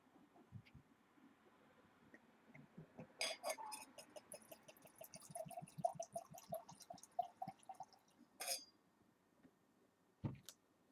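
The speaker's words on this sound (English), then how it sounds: "Let's just go and pour this one out already." Barrel-aged traditional mead poured from a bottle into a glass, a quiet close stream of rapid glugs and trickles lasting several seconds, framed by a few sharp clinks of glass.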